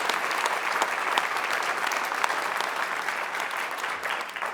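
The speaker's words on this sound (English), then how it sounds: "I think we should give him a round of applause" Audience at a televised live debate on social media and democracy claps steadily after a speaker's opening statement, a full, even round of applause without voices, tapering slightly at the end.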